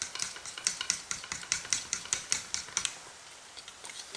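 Chocolate ganache sauce for a cake being stirred in a bowl, giving quick, regular scraping strokes, close and fairly quiet, that slow and thin out toward the end.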